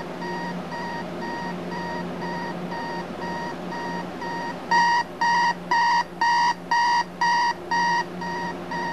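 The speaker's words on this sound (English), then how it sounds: "Let's go ahead and set the alarm here and have a listen to that." A continuous background hum gives way to a clock radio alarm: eight evenly spaced, loud electronic beeps in a steady rhythm, with no one talking.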